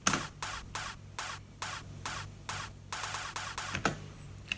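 A snare drum plays alone in a steady, driving rhythm of evenly spaced crisp hits, closing with a quicker flurry.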